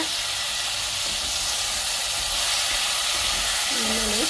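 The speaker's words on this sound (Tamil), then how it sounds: "இப்போ நல்லா வதக்கி விடுங்க" Brinjal and potato sautéing in a pan over a low flame give a steady, close hiss and sizzle that runs throughout, with a brief higher squeak near the end.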